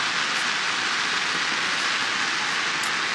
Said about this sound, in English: that's heavy rain, isn't it, Russ?